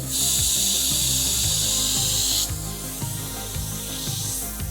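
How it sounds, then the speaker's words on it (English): An Iwata HP.TRN1 airbrush sprays paint in a broad pattern, a bright steady hiss that stops partway, while low rhythmic rubbing thuds continue close by. "And now with the TRN1, the broad spray"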